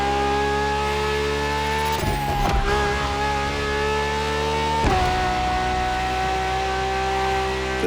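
Ferrari V12 hybrid supercar in the racing game The Crew Motorfest, a steady high engine drone held at constant revs with brief shifts around the gear changes. The sound stays loud and continuous throughout.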